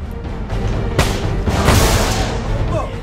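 Grenade blasts during army recruit training: two heavy, broad booms, the second stronger and more drawn out, rolling over a loud, dense rumbling background.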